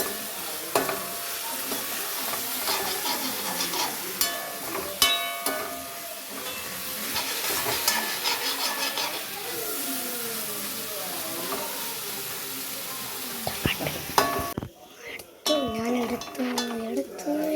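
Grated coconut with coriander, dried chili and fenugreek sautés in a pan, giving a steady sizzle with repeated scraping and stirring strokes throughout, ending in a brief pause and then more stirring.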